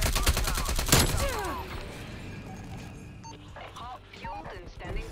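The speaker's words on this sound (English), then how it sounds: "Oh, let's go, strafe run." Rapid bursts of strafe-run killstreak gunfire in Call of Duty Cold War, a dense rattling volley near the start easing into scattered distant shots and game effects, with a voice talking over it.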